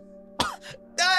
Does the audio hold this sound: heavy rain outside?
no